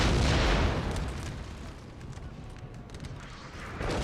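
Howitzer shells land and explode in a Napoleon Total War battle, a loud rumbling blast that fades into a low roar before a second impact booms in near the end.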